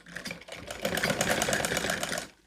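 A sewing machine stitches a kameez back neck in a short, even run of rapid needle clatter, close and fairly quiet, ending abruptly.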